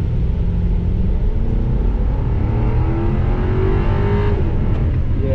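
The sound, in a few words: 2005 Cadillac XLR engine running on test drive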